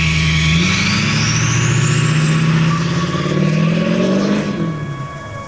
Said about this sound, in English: let's put it up on the dyno and check it out.